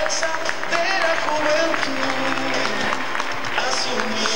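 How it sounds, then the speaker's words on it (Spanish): Audience applause and crowd noise at a Partido Nacional political rally, steady clapping mixed with voices and speech. "también para ellos le pedimos un aplauso"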